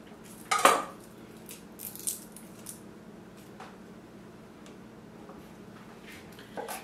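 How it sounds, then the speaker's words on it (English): A knife taps and scrapes across a cutting board while mincing garlic. Sharp, sparse chops land at irregular moments, one louder cluster near the start, over a quiet background. "we're just going to mince this garlic into itty bitty pieces"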